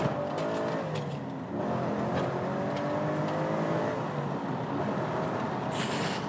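A car fitted with a 3.5-inch X-Force exhaust revs, its engine note rising and falling in a sustained rumble heard up close, with a brief higher burst near the end.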